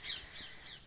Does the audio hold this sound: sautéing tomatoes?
no